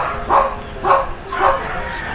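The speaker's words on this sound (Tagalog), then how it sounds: "Yan ang background ko, yung mga aso." Several dogs bark in three bursts about half a second apart, fairly close, with a steady background hum and murmur behind them.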